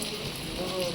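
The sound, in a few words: rain falling at Stirling Castle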